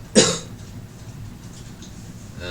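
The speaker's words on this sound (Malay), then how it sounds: "Aduh, batuk pula." A single sharp cough close to the microphone, followed by quiet room noise.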